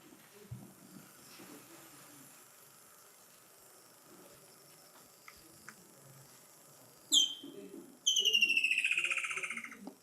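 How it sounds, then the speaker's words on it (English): A woodland kingfisher calls in a quiet outdoor setting, a short sharp note followed by a loud descending trill of rapid repeated notes, standing out above faint background ambience. "The first one is a woodland kingfisher"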